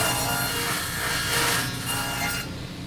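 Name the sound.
saw cutting a dado in wood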